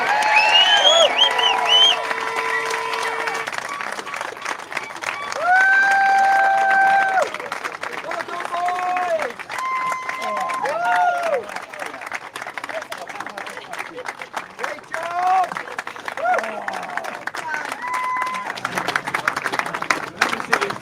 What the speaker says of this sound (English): And a big applause for Chris as well